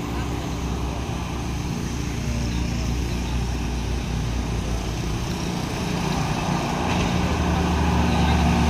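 On the Bukit Kodok hill road, heavy trucks rumble and drone, among them a Trado truck coming down the slope. The engine noise holds loud and steady and builds slightly toward the end.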